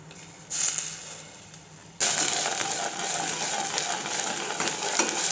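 Onion paste fries in hot oil, a quieter spatter at first, then a sudden louder, dense sizzle that keeps crackling steadily to the end.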